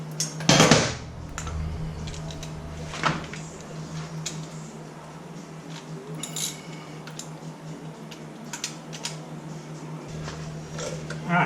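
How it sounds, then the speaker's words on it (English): Metal tool clicks and scrapes while a screwdriver pries back lock tabs and primary bolts come out of a 2003 Softail motorcycle, with a sharp clank at the start and scattered light metallic ticks over a constant low hum. "Use a screwdriver and we can loosen up those lock tabs, and then pull those bolts out"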